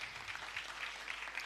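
Faint, steady patter of an audience clapping for a young boy called forward at a Malayalam religious talk, a soft continuous rustle of hands throughout.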